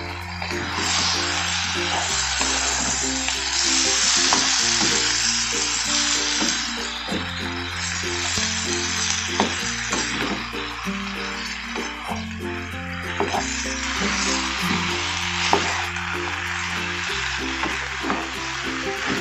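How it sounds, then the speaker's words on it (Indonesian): Chicken pieces hit hot oil with fragrant spice paste for an Indonesian opor-style dish, giving a loud, continuous sizzle and frying crackle under steady background music. "Setelah bumbunya tercium harum, kemudian masukkan ayamnya ya"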